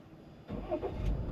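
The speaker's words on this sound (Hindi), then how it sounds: "सबसे पहले गाड़ी में स्टार्ट कर लेता हूँ।" A Tata Safari's Kryotec diesel engine starts up, settling into a steady, close low rumble that continues to idle after the quiet opening moment.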